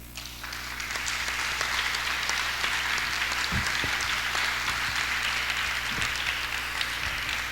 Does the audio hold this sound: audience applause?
yes